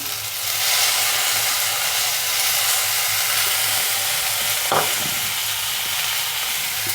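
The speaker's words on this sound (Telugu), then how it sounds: "వంకాయ ఉర్లగడ్డ ఇప్పుడైతే బాగా వేగిపోయినాయి" Eggplant and potato pieces fry in a pan for a chana dal curry, a steady, close sizzling hiss running throughout with one brief clink partway through.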